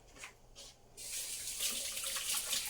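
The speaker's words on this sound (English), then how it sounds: "Rinse my hands really quick." A kitchen tap starts running partway through, its steady hiss of water joined by splashing as hands are rinsed beneath the faucet at fairly close range.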